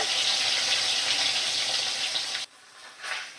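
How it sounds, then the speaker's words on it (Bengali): A bhetki fish head frying in hot oil, a loud continuous hiss and crackle that cuts off abruptly, then returns more softly as a brief sizzle. "তো একটু সময় ধরে মাছের মাথা ভাজা হচ্ছে।"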